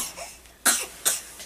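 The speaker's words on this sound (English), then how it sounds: "Fake little cough." An 8-to-9-month-old baby gives a few short, breathy fake coughs, two sharp bursts close by after a quiet start, with no talking.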